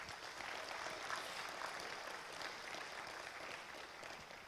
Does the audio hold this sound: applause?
yes